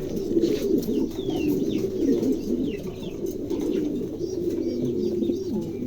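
A pair of Marshal pigeons, one male and one female, coo steadily in low repeated rolling phrases, with faint chirps of other birds in the background.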